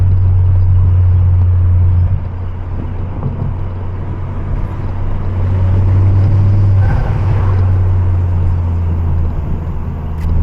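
A Ford Focus ST MK2 turbo hatchback cruising on a forest road, its engine droning loud and steady from inside the cabin with low rumbling tone, easing slightly mid-way and then holding on, no talking.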